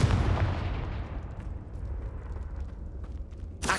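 A fiery Confringo spell blast in the Hogwarts Legacy video game erupts loudly as a deep, booming roar, then rumbles and fades over a few seconds before a sharp burst hits at the end.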